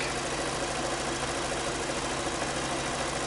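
A Volkswagen Passat B6 engine idling after an oil service and air filter change, a steady, even mechanical hum with a faint ticking texture, close and continuous with no voices.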